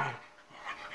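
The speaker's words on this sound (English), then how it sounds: "Dogs are the best." Puppies panting close by, a quick soft run of breathy huffs with a faint whimpering edge, brief and fairly quiet with no voices.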